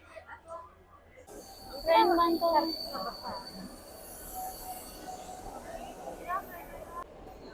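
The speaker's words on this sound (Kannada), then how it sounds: "ಅವಾಗ್ಲೇ ಒಂದ್ ಟ್ರೈನ್ ಹೋಯ್ತು ರಫ್ ಅಂತ ಹೊರಟೋಯ್ತು ಹಂಗೆ" A local train passes nearby as a broad, rumbling wash of rail noise that holds for several seconds and then cuts off. Voices briefly talk over it.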